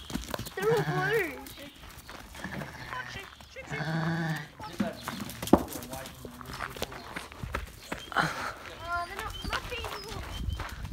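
Several freshly shorn sheep bleat loudly and repeatedly nearby, mixed with shuffling hooves and a person talking in between.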